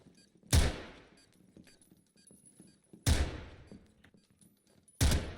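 Three sharp gunshots ring out in a video game as lights are shot out, spaced a few seconds apart, each a loud crack with a quick decaying tail over faint background noise.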